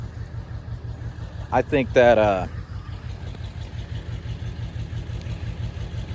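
An old truck engine idles with a steady, rhythmic low chug. Someone briefly speaks over it partway through, and the engine keeps pulsing evenly before and after.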